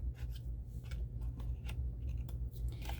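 Scissors snip through paper card at an angle while a snowman triangle box is being cut out, giving a series of short, crisp close-up cuts over a low steady hum.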